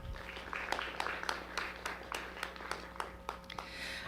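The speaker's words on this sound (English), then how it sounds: "Let's give them a round of applause." Scattered clapping from a school science fair audience in Elmore County, quiet and fairly sparse, with individual claps arriving in a loose, steady patter over the whole stretch.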